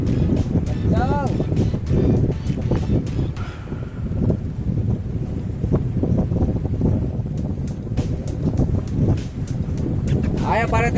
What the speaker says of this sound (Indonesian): Oke, anginnya kencang.